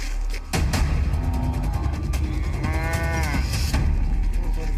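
Water buffalo mooing in a rural setting, several drawn-out tonal lowing calls rising and falling over steady low rumbling background noise, fairly close and loud.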